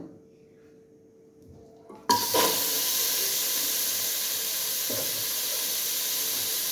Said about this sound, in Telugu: ఆయిల్ పెట్టిన తర్వాత ఈ చికెన్ పీసెస్ అయితే వేస్తున్నాను